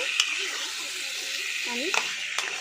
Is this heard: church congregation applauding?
no